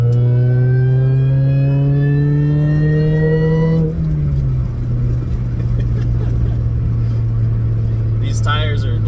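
A Pontiac Ion Redline with a ZZP kit revs hard on a wet road, its engine note climbing steadily as the tires spin without grip, then dropping sharply into a lower sustained drone near the middle.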